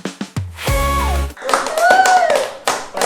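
A quick burst of a few close hand claps opens the stretch, followed by loud sustained musical tones and a sliding melodic sweep.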